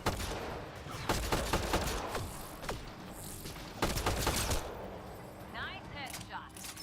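Bursts of rapid gunfire and impacts from a Mass Effect Andromeda firefight, loud and dense in several volleys, with game voices and effects mixed in.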